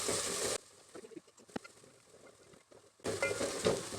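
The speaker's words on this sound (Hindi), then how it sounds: "अदरक लहसुन का पेस्ट डालूँगी। इसको भी फ्राई करेंगे" Ginger garlic paste sizzles in hot oil in a home kitchen pan, a loud frying hiss at the start that drops away, a few soft clinks and stirs in the quiet middle, then the sizzle swells back up.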